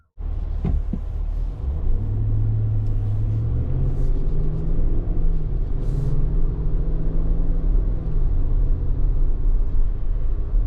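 A 2025 Chevrolet Tahoe Premier with a V8 pulls away on the road, a steady close engine rumble and tire drone that rises in pitch as it accelerates, heard without talk.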